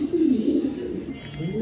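Racing pigeons of Dutch and Belgian bloodlines coo close by, a low rolling burble that swells and fades over a quiet background.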